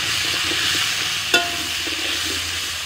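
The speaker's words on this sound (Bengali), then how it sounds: "আলুটা একটু ভেজে নিয়ে" Potatoes fry with turmeric and salt in oil left over from frying fish, making a steady close sizzle with soft stirring scrapes and one sharp clink partway through.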